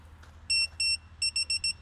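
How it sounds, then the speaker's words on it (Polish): A PDL+ rangefinder photocell plays a short electronic confirmation tune of high clear beeps, two longer tones followed by four quick shorter ones, clear and close over a low background hum. "potwierdziła hymnem kibica ustawioną odległość"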